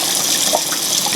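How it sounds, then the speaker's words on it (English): Water rushes and gushes steadily through a Philips DreamStation CPAP device during recall foam removal, a loud continuous splashing flow heard close up with no voices. "So the water goes in, it'll go through, it'll come out the bottom, then we can dump it out."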